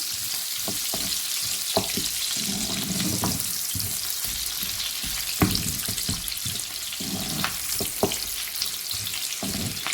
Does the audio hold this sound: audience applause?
no